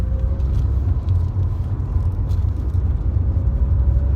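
A Lancia Delta Integrale from the turbo era drives steadily on the road, its engine giving a low, even rumble and whir as heard from inside the car, with no talking over it.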